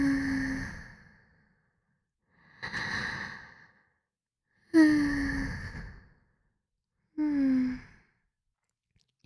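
Four slow, soft breaths drawn in and let out in even sighs, close and intimate in a quiet whispered setting, each breath separated by a short pause with no talk over them.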